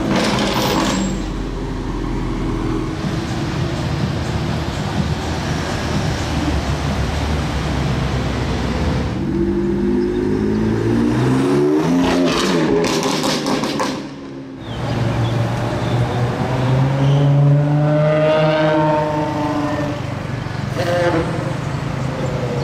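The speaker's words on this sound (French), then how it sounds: "Croisement de Ferrari." Ferrari cars passing each other, engines roaring loud and close with rising and falling pitch as they sweep by, a brief dip then another passing howl.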